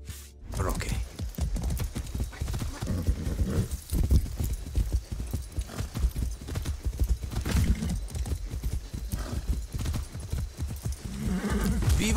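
Rapid hoofbeats of a galloping horse in Far Cry 6 pound steadily throughout, loud and close, with a game-like soundtrack texture and brief voices mixed in.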